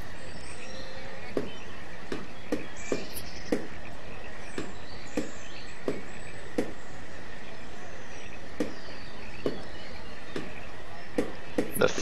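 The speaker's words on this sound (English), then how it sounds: "you hear the birds, the water, crickets, people chopping" Village ambience from the city-building game Banished: a steady cricket chirr with faint birdsong runs throughout, punctuated by regular, sharp wooden chopping knocks of people cutting wood, at moderate distance.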